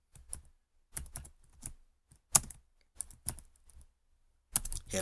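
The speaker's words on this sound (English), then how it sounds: "I'm just going to type a simple h1 and say hello" Keys on a computer keyboard are typed in short, irregular bursts of crisp clicks with brief pauses between them, close and quiet in an otherwise silent room.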